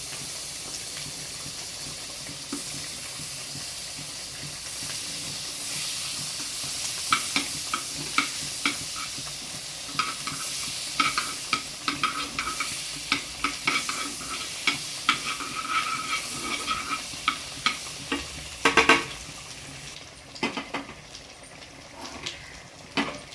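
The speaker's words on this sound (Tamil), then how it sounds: "பட்டர் எல்லாம் மெல்ட் ஆகிடுச்சு." Butter sizzles steadily in a hot pan, a soft crackling hiss with scattered pops and a few scraping stirs, close and fairly quiet.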